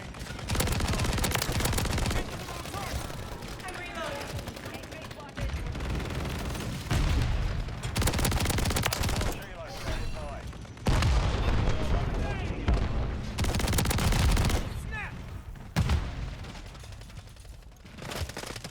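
Heavy shotgun blasts and other gunfire from Modern Warfare 3 crack in loud, dense bursts, broken by short pauses.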